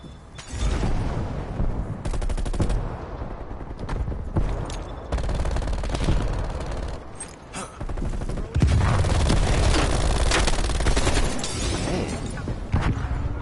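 A deployed turret in Call of Duty: Black Ops Cold War fires sustained machine-gun bursts. The gunfire rattles loudly and almost continuously, broken by brief gaps, amid other in-game impacts and explosions.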